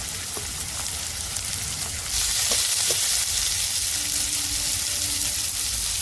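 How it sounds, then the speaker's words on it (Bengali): Potatoes and onions fry in oil with a steady, close sizzle that grows suddenly louder partway through, with a few faint stirring clinks. "আলু পেঁয়াজ ভাজা হয়ে গেছে"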